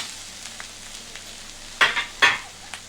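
Cluster bean curry frying in a pan, a low continuous sizzle with a few light taps, then two sharp scraping stirs of a utensil near the end, close and otherwise quiet.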